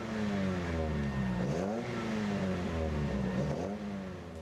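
Ginetta G40 race cars with 100 bhp engines on the formation lap at Brands Hatch, a steady, loud engine drone that dips and rises again as the cars pass, continuous through the clip.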